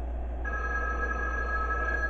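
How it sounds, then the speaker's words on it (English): A phone ringing in the Five Nights at Wario's video game, a steady electronic ring tone that starts after a short moment and holds on, heard over a constant low background hum with no talking. "And we get a phone call."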